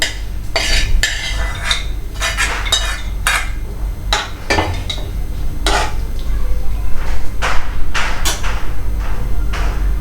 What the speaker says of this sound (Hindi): हम इसमें जो हमने वेजिटेबल्स सौटे की थी वो हम इसमें ऐड कर देंगे।